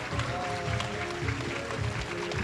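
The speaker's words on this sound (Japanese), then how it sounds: "どうぞ皆様大きな拍手をお送りください。" Audience at a Japan premiere event in Tokyo applauding, a dense, continuous clatter of many hands clapping through the whole moment, with faint voices mixed in.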